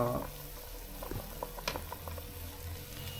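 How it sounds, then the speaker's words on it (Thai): Minced pork boiling in a pot of water, made as a filling for Thai Tokyo pancakes: busy bubbling and popping with small clicks and ticks, close and fairly loud, with a faint voice early on. "ก็ปล่อยให้มันเดือดอย่างนี้นะครับสักหนึ่งนาทีสองนาทีนะ"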